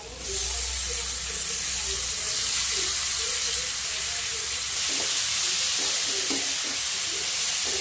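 Tomatoes fry in a pan while being stirred, giving a steady close sizzle with scraping taps from the spoon through the whole stretch, no talk over it.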